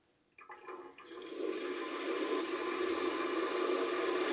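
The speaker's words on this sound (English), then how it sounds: "I'm draining the system right now" Water rushes steadily out of a leaking pressurised system as it is drained, starting with a few brief spurts before settling into a loud, continuous hiss-like gush close by.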